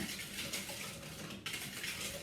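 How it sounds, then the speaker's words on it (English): Whisking ingredients for crème brûlée in a bowl, a continuous close swishing and rasping that stays steady and moderately loud for a couple of seconds. "I'm gonna whisk those 2 together."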